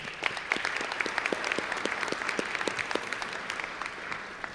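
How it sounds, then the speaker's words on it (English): At a Seneca High School National Honor Society induction ceremony, the audience gives a round of applause: a full, even roar of many clapping hands with a few crisp individual claps standing out, sustained throughout. "Please join me in giving them all a round of applause."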